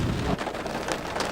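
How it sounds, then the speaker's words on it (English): Heavy rain pours down steadily in Sicily near the Valley of the Temples: a dense, continuous wash of drops drumming on surfaces, loud and close, with no voices. "as you can see, the rain has set in"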